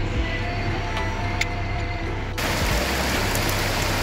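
Steady rain falls during a bikepacking tour in the Turkish hinterland, a dense continuous hiss that grows brighter and heavier partway through, with no talk.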